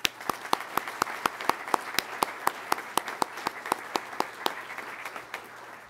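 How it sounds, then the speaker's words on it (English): An audience at an Undergraduate Pilot Training Class 23-12 graduation applauds its instructor pilots: a steady run of crisp, evenly spaced claps over a softer wash of crowd clapping, held at a constant level for several seconds. "Please join me in a round of applause as we thank our instructor pilots."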